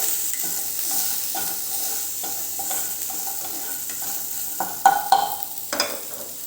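Half a teaspoon of turmeric being stirred into samosa filling in a pan, heard as soft repeated scraping strokes over a quiet sizzle, ending with a few louder clatters of the spoon.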